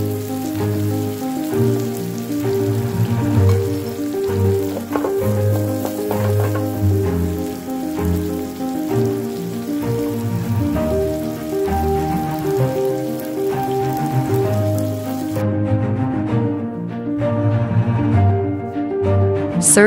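Butter garlic shrimp sizzles steadily in a hot pan as it goes back in with the spinach. A dense crackling fry runs continuously, close and moderately loud, with no speech.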